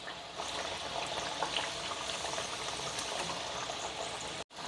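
Masala dal vadas deep-fry in very hot oil, a soft continuous bubbling hiss, quiet and even throughout, with a brief dropout near the end.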